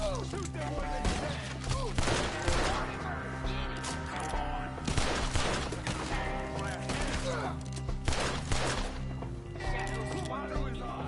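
Gunshots in a Red Dead Redemption 2 Old West shootout: repeated sharp bangs and volleys keep coming over a dense bed of music and game sound, with voices talking throughout.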